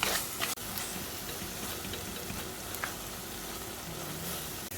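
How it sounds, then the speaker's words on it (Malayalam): Curry leaves sizzle steadily in hot oil in a frying pan while a spoon stirs them, a continuous close frying hiss with faint scraping, no voices. "വേപ്പില ഇട്ട് വെച്ച് നന്നായിട്ട് ഇളക്കി കൊടുക്കാം."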